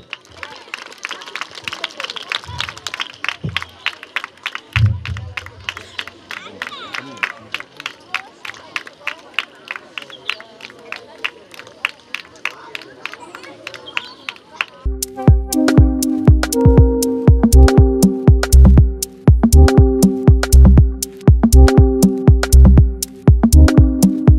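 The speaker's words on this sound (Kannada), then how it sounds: "ಜೋರಾದ ಚಪ್ಪಾಳೆ" Crowd at a school volleyball tournament event clapping loudly in fast, dense rhythm, with babble of voices, later joined by loud music with a pounding beat over the ongoing applause.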